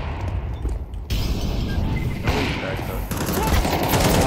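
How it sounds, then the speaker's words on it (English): Video game gunfire with a grenade blast, loud rapid volleys of shots and booms filling the whole stretch, with players' voices mixed in. "Grenade out!"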